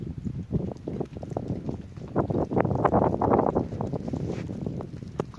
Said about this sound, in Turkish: Kar buram buram esiyor.